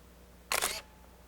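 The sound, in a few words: Minolta Maxxum SLR camera shutter release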